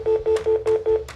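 A phone number is dialed on a telephone keypad, giving about six evenly spaced touch-tone beeps, close and clear, with no talking.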